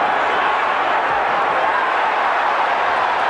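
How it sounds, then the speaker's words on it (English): Arena crowd at the 1988 Mike Tyson vs Larry Holmes boxing match, a steady, loud, unbroken roar of cheering with no distinct breaks. "The crowd loves to see this."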